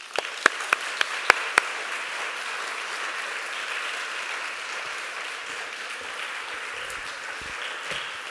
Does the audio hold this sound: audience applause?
yes